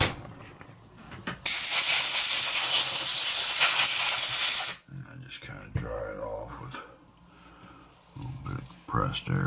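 Compressed air blasts in a loud, steady hiss for about three seconds while cleaning a Maruman GL 30 turntable, followed by quieter handling noises and someone talking.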